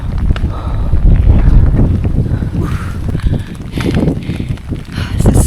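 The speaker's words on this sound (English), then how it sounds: "the rain blowing in right now" Wind gusts and rain blow in on an exposed stretch of the Appalachian Trail near Grafton Notch, a loud, steady roar buffeting the microphone with rushing swells and no voices.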